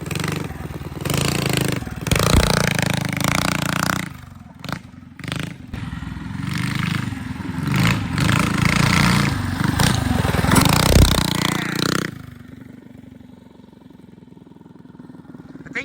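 A mini bike engine buzzes and revs hard while riding through snow, loud and close with clattering and scraping over bumps, then fades to a quieter idle near the end.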